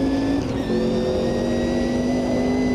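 A Group C race car engine in the racing game Automobilista 2 drones loud and steady, with a brief dip in pitch near the start as it shifts down, then holds a sustained, buzzing note.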